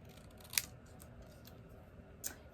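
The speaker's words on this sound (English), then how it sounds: "I'm going to snip this off right here" Scissors give two crisp, sharp snips about a second and a half apart, close and fairly quiet, trimming a paper greeting for a handmade stamped card in a quiet room.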